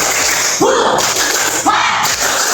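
A crowd of schoolchildren at an Indonesian school education festival claps the rhythmic 'tepuk semangat' chant, two loud bursts of clapping and shouting voices close by, with a pause between them.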